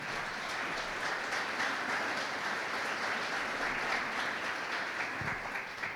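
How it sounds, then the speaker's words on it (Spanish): Sustained applause from a church congregation praising the Lord during a Spanish-language sermon, a dense steady clapping that fills the space for several seconds without pause. "Denle un aplauso al Señor por eso."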